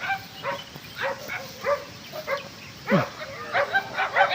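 A dog barks and yips in short repeated bursts while out on a walk along a marshy path near cattle in the hills of Coonoor, the calls loud and close with faint outdoor noise between them.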